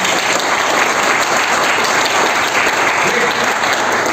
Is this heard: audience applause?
yes